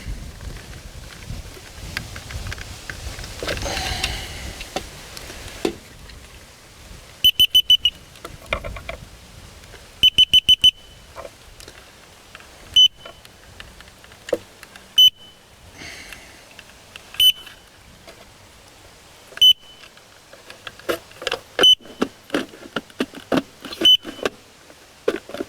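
A Mighty Mule MM462 automatic gate opener gives off short, sharp electronic beeps in scattered bursts, some repeated in quick clusters, between quieter stretches of handling noise nearby.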